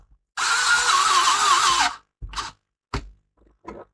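A power driver spins large brass transport screws back into a Nakamichi CD player, one sustained whirring run of about a second and a half followed by three short, sharp bursts of the tool, close and alone.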